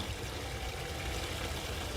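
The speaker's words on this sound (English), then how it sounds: "So the water pouring out of Robin Hood's well." Water pouring steadily out of Robin Hood's well, a continuous broad splashing rush at a constant level, with no voices over it.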